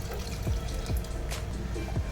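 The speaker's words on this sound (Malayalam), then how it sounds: "അരപ്പെടുത്ത പാത്രം കഴുകിയ വെള്ളമാണ് അത് ഇതിലോട്ട് ഒഴിച്ചു കൊടുക്കാം" Water from rinsing the ground masala bowl poured into a pot of sambar, a steady close wash of liquid pouring and splashing with a few soft gulping drops, no talking.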